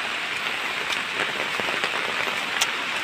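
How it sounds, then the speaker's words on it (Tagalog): Heavy rain pours during a typhoon, a steady dense hiss of drops drumming on surfaces and an umbrella close by, with scattered sharper spatters throughout and no talk. "Marinig natin ang lakas ng ulan mga idol."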